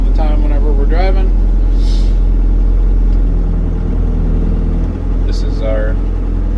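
A Toolcat utility vehicle fitted with a broom and brine sprayer runs with a loud, steady low engine drone. Someone talks briefly over it.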